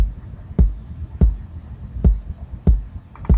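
A deep, thumping kick drum from a hip hop beat hits alone five times at a steady mid-tempo pace, booming and close with a soft low hum between hits.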